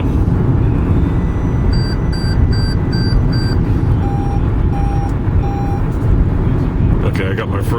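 Car driver-assist warning, a series of bright electronic chimes in two patterns, first a higher repeated tone then a lower one, over loud steady road and engine noise inside the moving vehicle.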